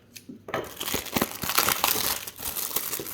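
Wax pack of 1991 Fleer baseball cards being torn open, close and loud crinkling and crackling of the waxed paper wrapper in quick bursts across a few seconds.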